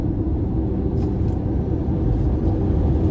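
A 2023 Ford Mustang Mach-E AWD accelerates hard, heard from inside as a steady, loud low rumble of road and tire noise with no distinct engine note.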